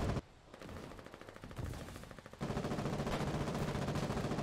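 Gunfire in the war video game Foxhole: rapid, rattling automatic bursts that switch between volleys, with a denser, louder stretch of sustained fire in the second half. The shots sound fairly distant and muffled, with no voices.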